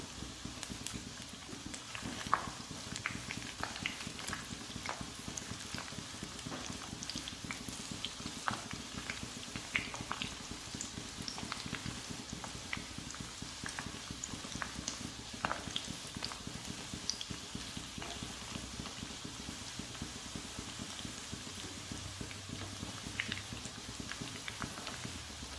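Fish nuggets frying in a pan over medium heat, a steady soft bubbling sizzle that carries on evenly with small crackles and pops and no talking.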